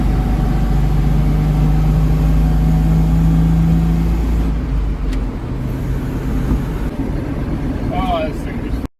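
A pickup truck towing a race car on the road to a dirt race at Brookfield Speedway, with a steady loud engine and road drone throughout as someone talks over it.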